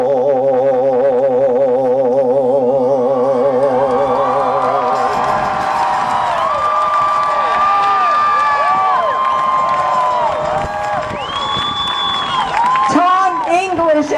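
A crowd at an anti-war rally in Los Angeles cheers with loud whoops and scattered applause. It follows a stretch of sustained tonal sound and stays busy and dense to the end.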